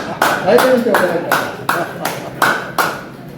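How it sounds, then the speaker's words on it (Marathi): Several sharp hand claps land in a slow, steady rhythm, loud and close, while a voice speaks briefly in the background. "एवढ्या चांगल्या टाळ्या वाजल्या की शंभर वर्ष जगणार"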